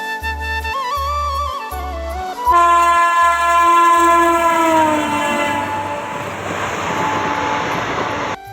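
Train travelling from Kanchrapara toward Paglachandi station sounds a long, loud horn, first in short repeated blasts and then a sustained tone, over a growing rumble of the moving carriages.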